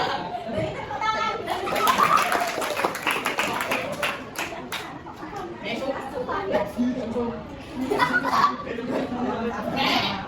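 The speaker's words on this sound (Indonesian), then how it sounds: "Beri tepuk tangan." Students in a classroom applauding, a burst of scattered clapping mixed with chatter and voices, rising and falling over several seconds.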